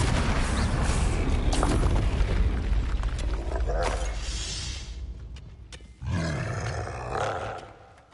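Flipendo spell effect in a Harry Potter game: a loud roaring magical blast that rumbles and fades, then a second forceful burst near the end, with a voice speaking briefly over it.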